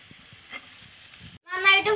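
South Indian snails fry in a pan in a village kitchen, a soft sizzle that turns to a brief louder burst near the end, with a voice briefly audible.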